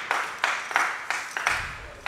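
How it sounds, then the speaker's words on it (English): A short burst of clapping from a small group, several sharp claps with a dense patter in between, moderately close. "Listen to the thundering of applause"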